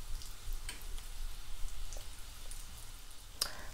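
Homemade gnocchi cook in a pan and give off a soft, steady sizzle with faint bubbling and light pops. The sound is quiet and close, with no talking.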